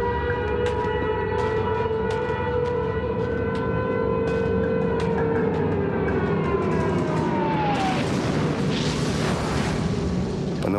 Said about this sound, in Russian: Городу Минску дан сигнал воздушной тревоги.